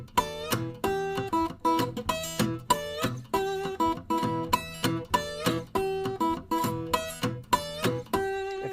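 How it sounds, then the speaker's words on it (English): A guitar is fingerpicked with the bass kept on only the sixth string: clear, evenly spaced plucked notes in a steady alternating rhythm, close and alone without talk. "So if you're doing the bass with just that 6th string, it's going to sound like this."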